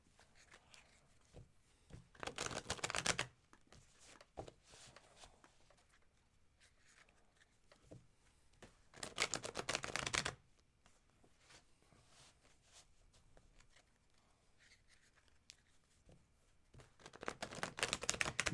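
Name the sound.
shuffling tarot cards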